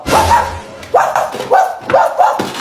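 A man imitates a dog barking with his voice, giving several short, gruff woofs in quick succession, loud and close.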